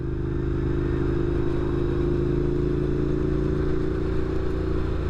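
A Triumph Bonneville motorcycle engine running steadily at low speed on a road, a constant throaty drone with mechanical rattle, close and loud throughout.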